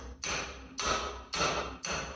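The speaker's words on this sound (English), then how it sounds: "then I'll hammer it in here" Four evenly spaced metallic hammer blows ring out on a pickle fork driven under a suspension bushing of a 2002 Ford Ranger, each strike sharp with a short ringing decay, close up.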